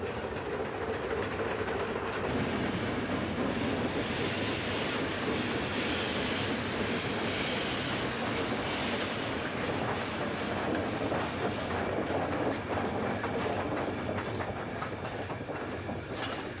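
Climax logging locomotive working a bush tram railway in the wilderness, a continuous rumbling run with rhythmic wheel clatter and occasional squeal, steady and fairly close throughout.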